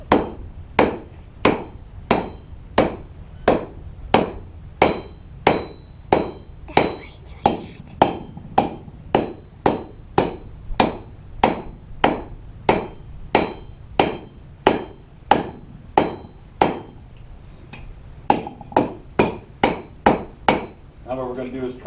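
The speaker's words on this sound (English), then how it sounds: "try to roll that into a bit more of a nail. And to do that, you just hammer and rotate." A blacksmith hammers hot iron into a nail at a historic fort demonstration, about thirty sharp ringing blows in an even, unhurried rhythm, close and clear with faint ambience between strikes.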